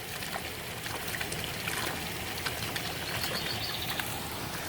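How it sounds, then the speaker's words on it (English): Water runs into an ecosystem pond from a waterfall, a constant splashing, trickling stream close by, with faint bird calls in the background. "Here's the water coming in here."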